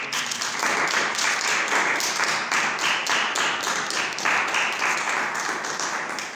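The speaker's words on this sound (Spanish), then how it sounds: "Dale un fuerte aplauso a nuestro Señor Jesucristo" A church congregation claps together in a sustained round of applause, dense and even, filling the room from start to finish.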